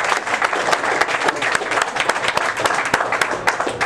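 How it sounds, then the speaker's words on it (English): A meeting audience gives a big round of applause, loud, dense clapping with sharp individual claps standing out, sustained steadily from start to finish. "Let's give a big round of applause for John Buttrick."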